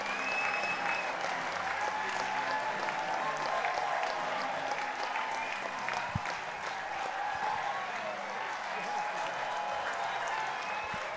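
A baseball crowd at an independent league game between Hamilton and London applauds a two-run home run, steady dense clapping and cheering that holds at an even level throughout.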